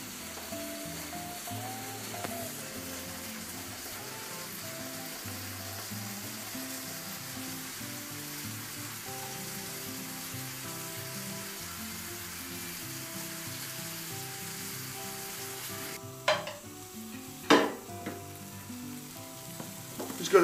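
Soft boiled noodles are tipped into a hot frying pan and stirred, giving a steady close sizzle with a few sharp scraping knocks near the end.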